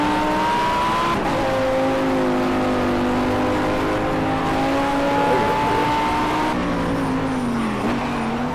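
Race car engine in Project CARS, an Audi R8, revving hard and accelerating in sustained rising and falling tones with gear changes, loud and continuous with brief tire noise and no talk.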